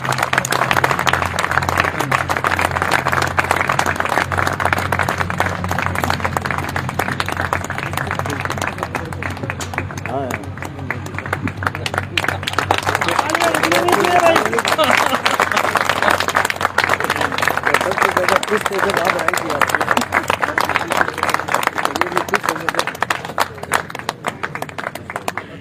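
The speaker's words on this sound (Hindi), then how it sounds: "मिस्टर आयुब खान सर के लिए जबरदस्त तालियां होनी चाहिए" Sustained audience applause welcoming a guest at a company programme, dense loud clapping that runs on continuously with a crowd murmur and some voices beneath it.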